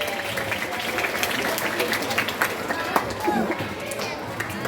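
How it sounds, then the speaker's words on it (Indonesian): Steady applause from a crowd at a school Dhuha kultum gathering, continuous rapid clapping that fills the room for several seconds. "Tepuk tangan."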